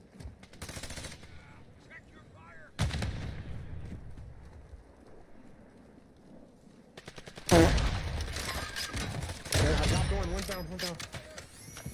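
Bursts of video game gunfire in a few separate loud volleys with quieter gaps between them, mixed with players talking and shouting.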